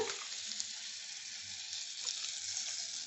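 Bay leaves and cloves sizzling in butter and oil in a pan for a chicken stew, a steady close frying hiss with no talk.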